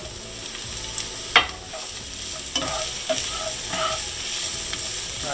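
Garlic and onion frying in a pan for rellenong bangus, a steady close sizzle with scraping and clacking stirring sounds, including one sharp knock early on.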